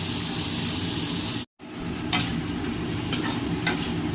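A drumstick curry is stirred in a hot pan, a steady frying hiss with brief scraping strokes of a utensil, close and continuous after a momentary cut, with no talking.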